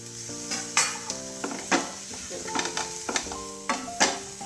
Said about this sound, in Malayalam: ഇനി നമുക്ക് തക്കാളി ഒന്ന് അരിഞ്ഞ് ഇതിലേക്ക് ഇടാം. ഒന്ന് ചെറുതായിട്ടൊന്ന് വഴറ്റി കിട്ടിയാൽ മതി കേട്ടോ.